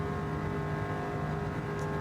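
A Bugatti Chiron engine held near top speed in Gran Turismo 7, a steady, droning tone with strong even harmonics, moderately quiet and unbroken with no talk.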